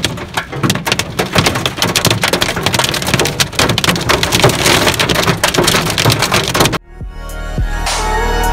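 Hail hammers a vehicle on a Himalayan mountain road in a loud, dense clatter of hard impacts that continues until it abruptly cuts off, giving way to a low rumble.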